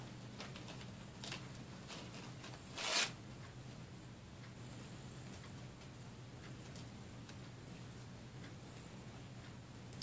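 A leaf shape torn from paper for decoupage on a wooden craft leaf gives a single short, sharp rip near the three-second mark, loud and close, with faint rustling handling noises before and after and no talking.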